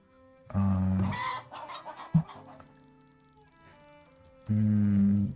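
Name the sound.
chickens clucking at a chicken coop in video game Farthest Frontier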